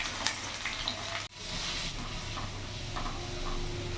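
Garlic cloves and dried red chillies frying in mustard oil, a steady close sizzle with a brief dip partway through before the crackle resumes, no one speaking.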